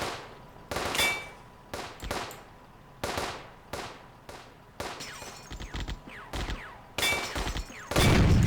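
Artillery fire in the PC war game Firefight lands as a series of sharp, loud blasts at irregular intervals, each with a short decaying tail, and a lower rumble joins at the end.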